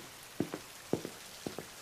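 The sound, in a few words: rain falling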